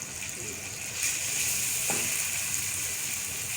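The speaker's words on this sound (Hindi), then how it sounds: "बस अब मैं इन सबको भून लूँगी अच्छी तरह।" Masala spices fry in a pan for tikka masala pasta, a continuous close sizzle and hiss with faint stirring, steady and moderately loud throughout.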